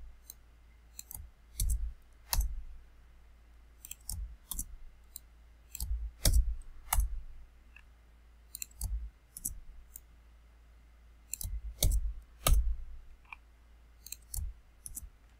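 Computer mouse clicking while setting up answer options in Blackboard Learn, sharp single and double clicks spaced irregularly across a quiet background, fairly close and crisp.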